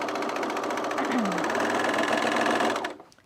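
A serger runs fast and loud over the knee notch of a pair of Mitchell trousers, giving a steady, close, high-speed mechanical buzz that cuts off abruptly near the end.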